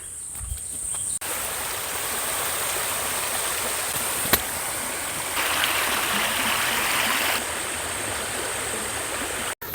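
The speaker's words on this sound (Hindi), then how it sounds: "तो यहाँ पर एक वाटर स्ट्रीम दिख रहा है" Water flows steadily in a small forest stream in Sanjay Gandhi National Park during the monsoon, a continuous bright rushing and trickling close by, with faint insect chirps in the background.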